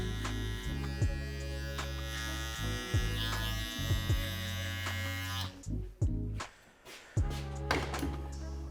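An electric foil shaver buzzes steadily up close with a strong hum during a skin fade haircut, changing pitch as it presses against skin, then briefly stops and restarts.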